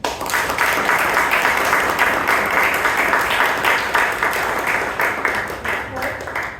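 Sustained, energetic applause fills a room at a Toastmasters club anniversary meeting, many hands clapping steadily for several seconds before tapering slightly.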